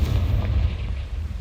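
Casting the Confringo fire spell in Hogwarts Legacy sets off a deep, rumbling explosion: a heavy low boom that rolls on loudly for the whole brief moment.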